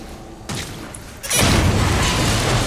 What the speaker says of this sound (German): Das Auto ist einfach explodiert.